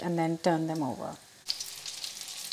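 Chicken goujons fry in oil with a crackling hiss. A person talks over the start, and then the sizzle carries on alone at a moderate, steady level.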